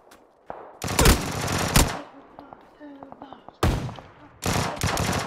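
Gunfire in PUBG on PS5, loud rapid bursts of automatic shots in two clusters with sparse distant pops between them, and a voice talking over it.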